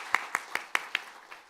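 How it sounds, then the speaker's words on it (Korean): Scattered hand claps from a church congregation during a Sunday service, about half a dozen distinct sharp claps at a steady pace that thin out and fade, fairly faint and with no talking over them. "박수로 축하해 주시기 바랍니다."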